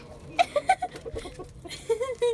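Backyard chickens clucking in the snow, several short close clucks and squawks in two small bursts over a quiet background.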